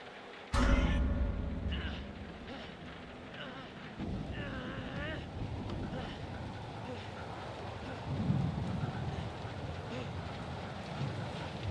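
Steady rain pours and thunder rumbles outdoors in the horror video game Man of Medan, opening with a loud crack and then settling into a continuous wash of rain with low rolling booms and gusts.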